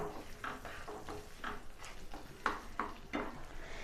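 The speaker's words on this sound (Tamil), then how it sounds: "அதனால தான் நல்லா கிண்டிக்கிட்டே இருக்கேங்க" A spoon stirs bread halwa in a pan, making quiet scraping strokes and light clinks at a loose, repeated rhythm, close up with nothing else heard.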